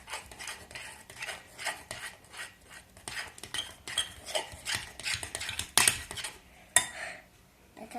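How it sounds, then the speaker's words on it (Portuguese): Slime is stirred in a pot with a utensil, giving a quiet, steady run of scraping and clinking strokes and a few sharper knocks against the sides, with no voices. "Mas eu tenho que continuar mexendo bastante."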